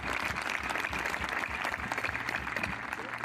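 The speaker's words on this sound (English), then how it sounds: "Let's give them a round of applause." Continuous crowd applause at a high school graduation ceremony, dense and steady throughout, heard from within the audience with faint voices mixed in.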